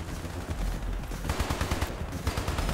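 Turret gun in the co-op game Hypercharge: Unboxed fires in dense, steady bursts across the whole stretch, loud and close, with sharper volleys near the end and no talk.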